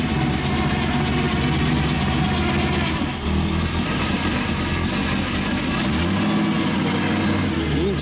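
The 350 V8 of a 1970 Chevrolet Camaro SS runs at a steady, deep, rumbling idle with a slight throttle blip partway through, loud and close with no talk.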